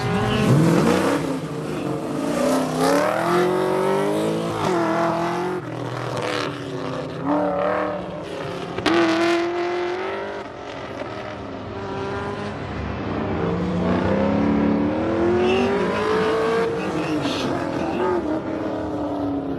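A Subaru BRZ races an autocross course, its engine note climbing and dropping repeatedly as it revs through short bursts and shifts, heard from a moderate distance at fairly low volume.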